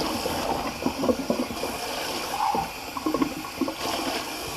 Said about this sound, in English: I know you're all going to get aggravated because I'm running the water.